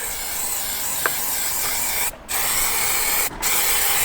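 Fogging spray lays lacquer over a car's exterior, a loud continuous hiss that cuts out briefly twice as the trigger is released, with a faint click early on.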